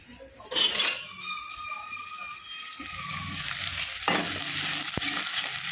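Tomatoes with salt sautéing in a pan, a steady sizzle under repeated scraping and clinking of a ladle stirring against the metal, close and moderately loud.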